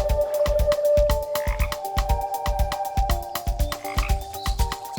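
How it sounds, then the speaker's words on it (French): Common frogs croak steadily at a pond in spring breeding season, a dense rhythmic chorus of short repeated calls, close and loud, with no talk. "Tous les ans, la grenouille rousse revient instinctivement sur le lieu qui l'a vue naître."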